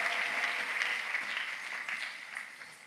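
Congregation clapping in a church service, a steady burst of applause that gradually thins and softens over a few seconds.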